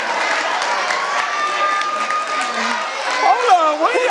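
A studio audience at a relationship talk show cheers and shouts together in a steady crowd roar, with a voice rising over it near the end.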